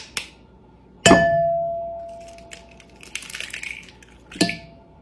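Eggs cracked one-handed against a mixing bowl for lemon bar custard make two sharp clinks that ring out against the bowl, with lighter tapping and shell crunching between them.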